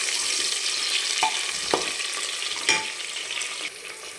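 Green chillies fry with onion in a pan, a continuous loud sizzle with scattered crackles and scraping stirs, close up, without talk.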